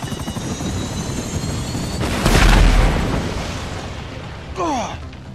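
An explosion in GTA 5 bursts in loudly partway through, a broad rumbling boom that lingers and fades over steady engine-like game noise, followed by a short rising effect.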